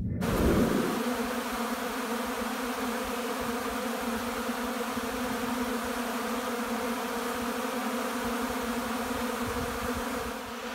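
Honey bees buzzing in a dense, steady drone on a spring working day, loud and close, holding level for the whole stretch after a brief louder swell at the start, with no voices.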